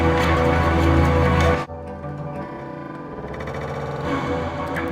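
A guitar preset in NI Guitar Rig 6 plays a big, dreamy tone, a dense wash of processed chords that cuts off sharply and then gives way to quieter, echoing textures.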